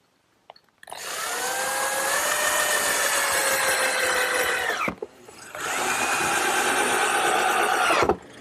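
A power drill drives 1 5/8-inch screws into wood for a garden armchair, two sustained whirring runs of several seconds each, close and loud, ending with a brief bind as each screw seats.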